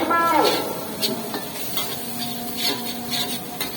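Fried rice is stir-fried in oil and butter in a pan, with steady sizzling and scraping stirs and occasional clinks of the utensil against the pan, close and moderately loud.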